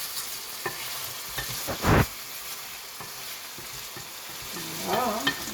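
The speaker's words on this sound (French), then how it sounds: "Voilà, on mélange bien les pommes de terre." Potatoes frying in a pan for a tajine hiss with a low steady sizzle while a utensil stirs them in a few scraping strokes, one louder scrape near the middle, no talking.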